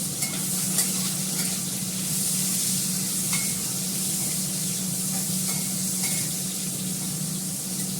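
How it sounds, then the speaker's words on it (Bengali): Onions frying in a pan with oil, a steady close sizzle with occasional stirring scrapes and crackles, no voices. "ভালো করে একটু ভেজে নিই পেঁয়াজটা"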